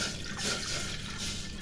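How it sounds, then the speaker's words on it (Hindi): Water is poured into a cooking bowl to start khichdi, a soft steady splashing and trickling that stays fairly quiet and even throughout, with no talk over it. "सबसे पहले हम लोग पानी ऐड करेंगे"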